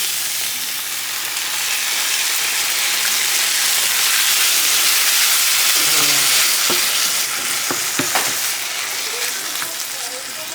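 Diced tomatoes from a can hit a warm pan and sizzle loudly in a home kitchen, a steady bright hiss swelling then easing, with a few clinks and stirring knocks near the end.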